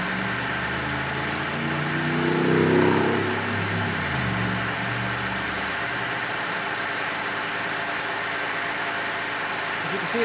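A Cadillac CTS engine idles steadily with a dense, even drone, swelling briefly early on before settling back to a constant running note with no voices.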